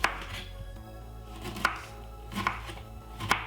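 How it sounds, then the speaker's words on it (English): A knife slices the skin from a lemon in a few sharp, close cuts against a board, spaced irregularly over a quiet background. "quickly remove the skin from the lemon"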